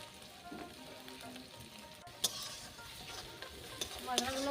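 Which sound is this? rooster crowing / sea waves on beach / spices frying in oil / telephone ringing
spices frying in oil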